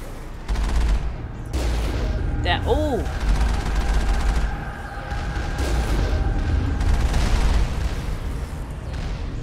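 Cannon fire in the video game Mass Effect, Bring Down the Sky DLC: repeated booming shots and bursts of gunfire over a continuous battle din, with a player talking over it.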